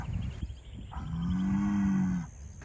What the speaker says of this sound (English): I'm standing here in the field now with a big muscly bull behind me